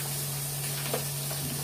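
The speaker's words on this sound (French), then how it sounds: "on va tout faire revenir un petit peu" Cubes of chorizo and ham sizzle as they are sautéed in a pot for a one-pot pasta, a close, continuous frying hiss with faint stirring scrapes and a steady electrical hum underneath.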